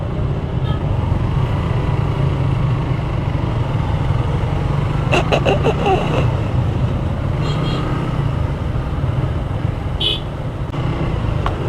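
A 2022 Suzuki GSX-R150 dual-ABS motorcycle ridden on the road to Sajek, a steady loud engine and wind roar throughout with brief faint clicks and a distant horn toot midway.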